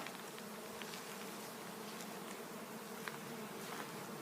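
Steady, dense buzzing of many bees around a bee house fills the air continuously, an even drone with no voices.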